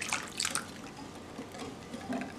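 Water is poured into a cornstarch slurry for pepper steak, giving soft trickling and a few small splashy drips, quiet and close in a kitchen.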